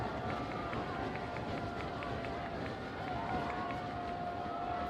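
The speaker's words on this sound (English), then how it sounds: "Crowd getting loud" Crowd at a high school football game between Chaminade and St. Anthony's swells into a loud, continuous roar of cheering and shouting, with a faint whistle-like tone running through it.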